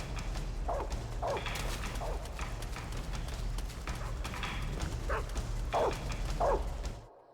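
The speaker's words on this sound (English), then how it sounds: "there's just a bunch of, like, giant guard dogs hanging out in the sewer" Giant guard dogs in a sewer in Metal Gear Solid 3: repeated sharp barks and yips, some nearer and some more distant, over a low droning background hum.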